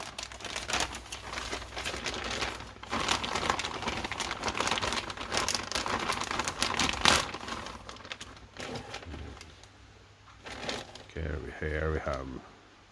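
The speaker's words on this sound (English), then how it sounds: "Plastic bag, plastic number 1." Plastic bag crinkling and rustling up close while parts for an HPI Toyota Corolla Levin AE86 RC car kit are unboxed, steady handling noise for most of the stretch, with a brief voice near the end.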